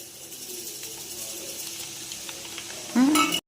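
Quiet sizzling of red chillies in hot oil for tempering, then a sudden louder burst of frying near the end before it cuts off.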